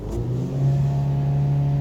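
2017 Ford Focus RS engine with a sticking throttle pedal revving up as the pedal is pressed, a loud close rising roar settling into a sustained steady hum.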